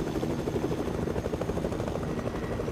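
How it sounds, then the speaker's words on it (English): A helicopter in a battle royale video game drones overhead with a steady, dense rotor thrum that holds at an even level throughout, continuous and fairly loud, with no talking. "I sort of hear like this helicopter and then one on that side for some reason."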